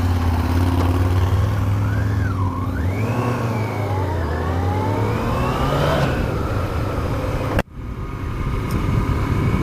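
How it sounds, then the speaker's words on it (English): A 5JJ-generation Yamaha R1 motorcycle engine, heard up close and loud, revs and swoops up and down in pitch as the bike rides along. It roars steadily, then cuts abruptly near the end before resuming. "Yes, bike is a little loud, isn't it?"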